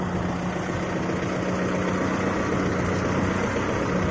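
A Kubota MU 4501 tractor engine idles steadily at close range, a continuous low rumble with a droning hum that holds at a constant level throughout, with no talk over it.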